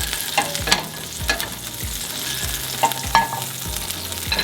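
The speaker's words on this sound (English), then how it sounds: "And then cook the corn until all the sides are nicely brown." Corn frying in melted butter in a hot pan, a steady close sizzle with repeated soft clacks of stirring or turning the cobs, no voices.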